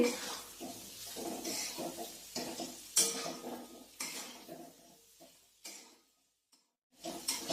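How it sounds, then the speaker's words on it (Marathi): A spoon stirs boiled potato pieces through a spice mixture in a pan, with repeated scraping, clinking strokes in short bursts close by, then a brief pause and a final scrape. "आता आपण या मिश्रणामध्ये उकडून घेतलेल्या बटाट्याच्या फोडी टाकूया। आता आपल्याला हे छान मिक्स करायचं आहे"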